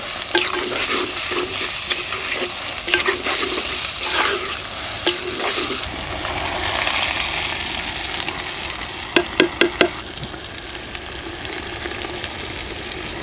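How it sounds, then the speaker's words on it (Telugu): Onions and tomato pieces fry in a pan for a cashew tomato curry, a steady loud sizzle under repeated spoon stirring and scraping, with a few sharp taps near the end and no talking. "ఉల్లిపాయలు ఈ విధంగా వేగాక టమాటా ముక్కలు వేసుకుందాం."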